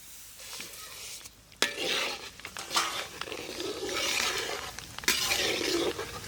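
Mustard seeds and urad dal crackle and sizzle in hot oil for curd rice tempering, with sharp popping bursts and a steady fizz, near and fairly loud, with some pan clatter.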